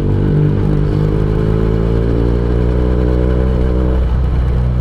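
A Benelli TNT 249 S motorcycle engine rumbles loudly at idle with a deep, throbbing exhaust note, steady throughout with a slight change near the end.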